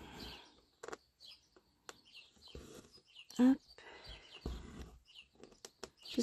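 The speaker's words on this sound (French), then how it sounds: "J'espère que les petits oiseaux qui chantent vous embêtent pas trop." Small birds chirp and sing outdoors, faint and scattered in the background beneath a person talking close by.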